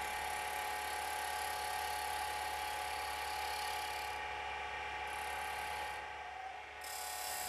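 A wood lathe shear cuts the outside of a complete lidded box held by the tailstock, giving a steady, loud, continuous whirring hiss with a bright edge that hardly varies and briefly softens near the end.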